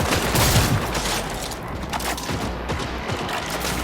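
Rapid sniper rifle fire from the video game Cyberpunk 2077, a dense run of sharp, loud shots strongest in the first second, then steady crackling reports continuing under faint background game sound.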